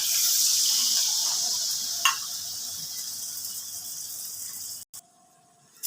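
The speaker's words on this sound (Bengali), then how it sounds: "এবারে দিয়ে দিচ্ছি 1 বাটি জল" A bowl of water pours into a pan of frying potatoes and pointed gourd, a steady rushing hiss that fades slowly, followed by a brief quiet spot and a faint clink.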